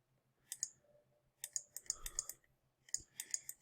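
Computer mouse clicks during cut-and-paste editing, heard as crisp, close clicks in short clusters with pauses between, fairly quiet, with no talking.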